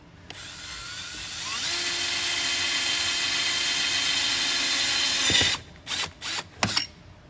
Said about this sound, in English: we're going to get in there with the drill out the hole